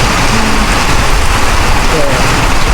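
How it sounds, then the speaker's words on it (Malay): Heavy rain pounds down around a 7-Eleven shelter during a motorcycle ride in Hat Yai, a dense, loud, continuous roar that stays close and even throughout. "Inilah hujan kita orang."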